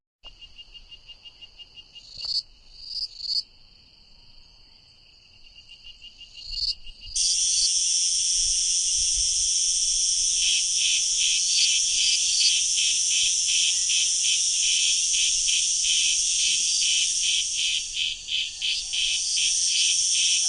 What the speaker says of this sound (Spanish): Se trata de grillos